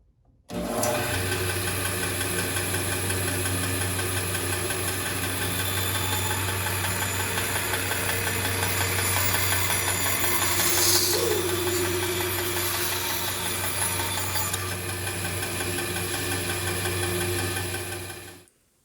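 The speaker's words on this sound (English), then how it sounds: "Now I'm just going to use the bandsaw on this side to clip off the back there." A bandsaw running while it trims the back off a wood carving blank, a steady loud mechanical hum and whine with a brief higher cutting rasp partway through, alone without talk.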